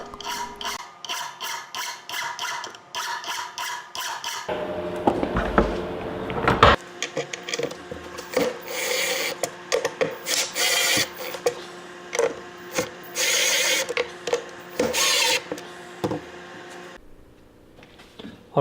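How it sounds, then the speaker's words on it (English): A metal file rasps back and forth on screws being shortened, loud and close, in a long series of harsh, rhythmic strokes with brief pauses between runs. "I used a file to make some particularly dreadful sounds and also shorten the screws."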